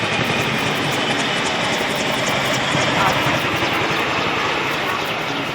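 Chinook helicopter flying low overhead at a SOCOM demonstration in Tampa, Florida: a loud, continuous broadband rotor and engine roar that holds steady and close throughout.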